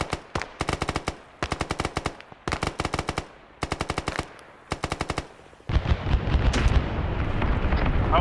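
Rapid machine-gun bursts in Arma 3: SOG Prairie Fire, five rhythmic volleys of sharp shots, then a loud, sustained roar of heavy fire or explosions filling the rest.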